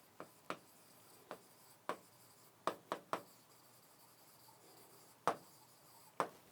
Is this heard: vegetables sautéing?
no